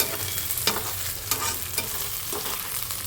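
Ginger sautéing in a frying pan: a continuous close sizzle with periodic scraping strokes of stirring, steady and fairly loud.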